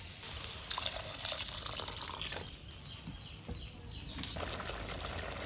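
Water goes into a cooking pan of spiced radish curry in a village kitchen, a soft trickling and splashing pour with faint drips, close but quiet, and a bird chirps faintly in the background.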